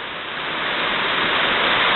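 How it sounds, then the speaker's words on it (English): Fast-flowing water in a stream beside a park rushes in a steady, close hiss that swells slightly louder as it goes on. "You can see how the water's still flowing"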